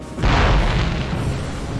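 A heavy in-game explosion in Conflict: Desert Storm, a single loud boom with a deep low-end thump that rolls out into a rumbling, fading tail, with no voices over it.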